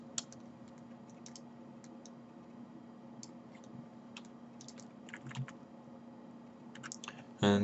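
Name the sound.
pressing backspace on a computer keyboard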